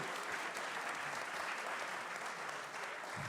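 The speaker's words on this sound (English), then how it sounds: "go ahead, clap, that's fine" An audience at a commitment to excellence concert claps for the program advertisers and event sponsors, a soft, even wash of applause that sounds somewhat distant and continues without a break.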